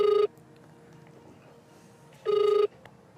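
A telephone being dialed in a Hindi horror-comedy skit gives two short, loud electronic tone bursts, one at the start and another about two seconds later, with quiet room noise between them.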